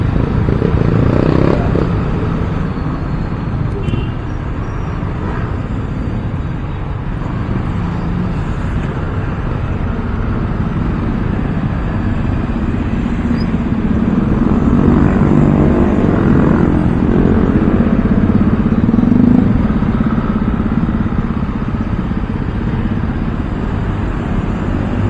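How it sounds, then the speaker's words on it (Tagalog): Steady road traffic in a Philippine street setting, a continuous broadband engine rumble with motorcycles and cars passing at moderate distance, no talk over it. "Nako, traffic."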